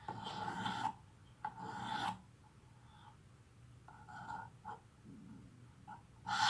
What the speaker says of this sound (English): So let's go ahead and do some sharpening.